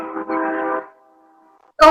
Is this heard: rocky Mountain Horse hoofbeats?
no